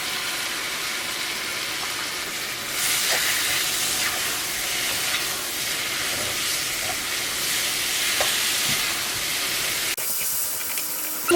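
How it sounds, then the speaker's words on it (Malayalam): Tomatoes cooking in a pan for a Kerala chicken roast give a steady, fairly loud sizzling hiss that runs the whole time, swelling slightly partway through, with no talking. "മൂടി വെച്ചിട്ട് ഒരു മീഡിയം ഫ്ലെയിമിലിട്ടിട്ട് ഈ തക്കാളി നന്നായിട്ടൊന്ന് വേവിച്ചെടുക്കുക."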